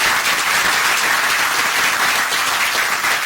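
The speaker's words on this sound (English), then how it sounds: "let's give them a big round of applause" Applause rises from an audience for students at a youth event, a broad, even wash of many hands clapping at once that holds steady throughout without any talk.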